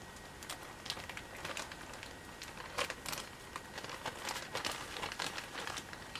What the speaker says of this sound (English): let's just cut open this bag here that has the bedding in